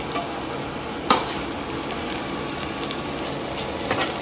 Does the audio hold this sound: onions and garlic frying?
yes